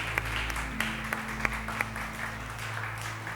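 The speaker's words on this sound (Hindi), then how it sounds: "ताली बजा के धन्यवाद करें।" An audience at a church gathering applauds, giving a steady wash of clapping with a few sharper individual claps standing out.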